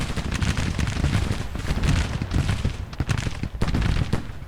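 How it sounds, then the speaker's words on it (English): Massed artillery and musket fire from a Civil War strategy game battle at Manassas, a dense, continuous rumble of booms and crackling shots, loud and unbroken with no voices. "our artillery shells are hitting the enemy"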